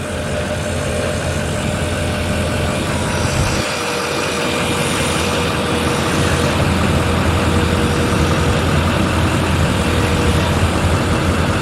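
A 2015 Chevrolet Silverado 2500HD LML diesel pickup with a FASS lift pump idles steadily nearby, a loud, constant low rumble with a rattling clatter that holds without change throughout.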